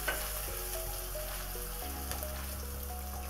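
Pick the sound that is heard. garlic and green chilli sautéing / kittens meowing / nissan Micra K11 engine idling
garlic and green chilli sautéing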